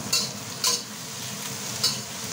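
Eggplant pieces sizzle in a pan while a Filipino mung bean dish cooks, a steady close frying hiss broken by three brief bright scrapes of stirring.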